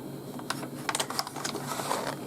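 Keys clack on a 1980s IBM AT computer keyboard in a quick, uneven burst of crisp typing, close and moderately loud over a faint steady hum.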